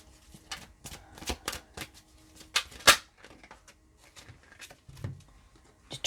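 A tarot card is drawn and flipped from a deck: a run of quick, dry paper slides and taps, close and fairly quiet, with one sharper snap near the middle and no talking.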